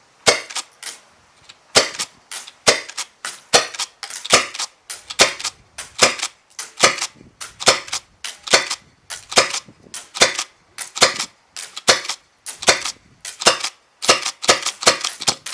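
Airsoft guns firing BBs, a long run of sharp close cracks in a roughly steady rhythm, often two or three quick shots at a time, loud and without talk.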